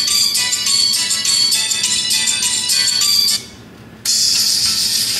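Music played from a phone through Q28 Bluetooth earbuds, bright and tinny with a steady pulsing beat, cutting out for a moment and then resuming at the same loud level, with no talk over it.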